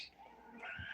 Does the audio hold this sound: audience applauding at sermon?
no